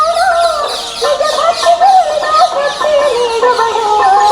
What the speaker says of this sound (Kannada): ಮರದ ಮೇಲೆಲ್ಲ ಗಿಳಿಗಳ ರಾಶಿ ಇದೆ ನೋಡಿ